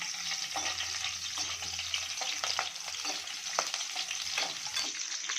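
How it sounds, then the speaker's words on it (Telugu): Green chillies and dried red chillies fry in hot oil for tamarind-pickle pulihora, a dense continuous sizzle close by with light clicks of a spoon stirring through it, no one speaking. "ఆయిల్ హీట్ అయింది హీట్ అయినాక పచ్చిమిర్చి ఎండుమిర్చి వేసుకొని బాగా కలుపుకోవాలి"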